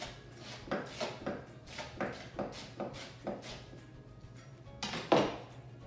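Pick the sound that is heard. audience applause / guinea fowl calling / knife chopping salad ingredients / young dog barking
knife chopping salad ingredients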